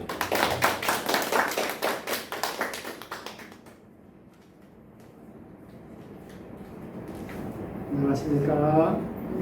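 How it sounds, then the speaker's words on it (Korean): A burst of audience applause at a Catholic church education session, many hands clapping for a few seconds, then fading into a quiet room before a person starts speaking. "박수로 환영해 주십시오."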